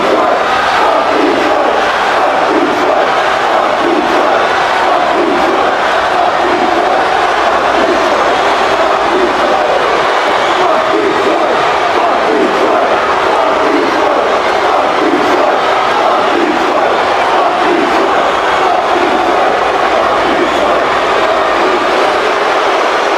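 A wrestling crowd at a live show boos the newly crowned undisputed champion as he takes the mic: a loud, dense, sustained roar of many voices running unbroken from start to finish.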